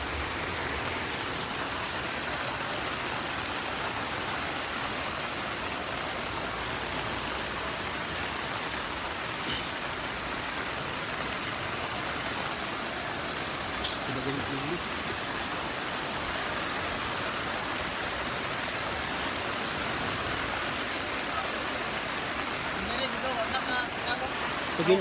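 Floodwater rushes continuously in the Mindanao countryside during Super Typhoon Odette, a broad, steady roar like surf that stays even for the whole stretch, with faint voices beneath it.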